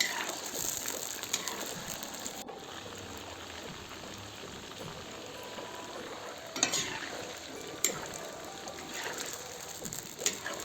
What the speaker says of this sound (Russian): Мясо нужно перемешать, чтобы оно не прилипло к стенкам казана.